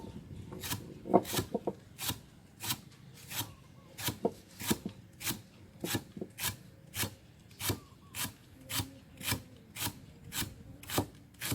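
A knife chops rapidly on a wooden board, irregular at first, then settling into a steady, even rhythm of sharp, close strikes, cutting ingredients such as lemongrass.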